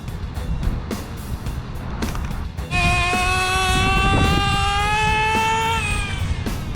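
An HPI Nitro RS4 RC car with a nitro engine revs up into a loud, high-pitched buzzing whine with strong harmonics after a few seconds of rougher idle sputter, close by and sustained to the end.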